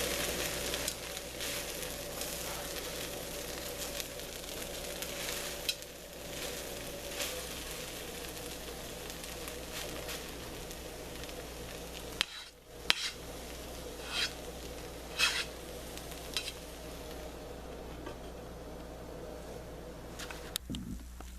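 Corned beef hash frying slowly in a pan over a low flame, a soft, continuous sizzle with faint crackles and a brief dip midway, no talking.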